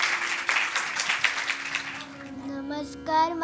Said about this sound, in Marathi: टाळ्या वाजवून त्याला प्रोत्साहन द्या